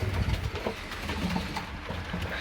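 Pigeons in a breeding loft coo softly and repeatedly close by, over a dense background of rustling and low murmuring bird sounds.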